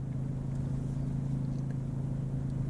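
Steady low drone of a RYOBI 2300 remote electric start inverter generator engine settling to idle, running close and continuous with no voices.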